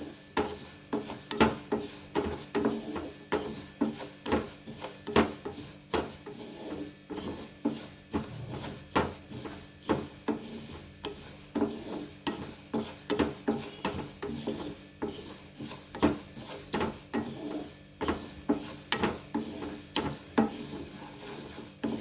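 Mustard seeds are stirred as they dry-roast in a pan for a pickle, making a continuous rhythmic scraping and rasping of the spoon against the metal, close and moderately loud.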